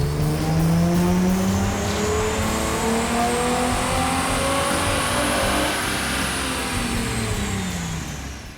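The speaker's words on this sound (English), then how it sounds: "let's make another dyno run and see what kind of horsepower and torque numbers we get" Loud 2005-2009 Ford Mustang V6 engine with a K&N cold air intake revs hard on a dyno, pitch climbing steadily through the run with a brief shift, then easing off near the end; close and continuous.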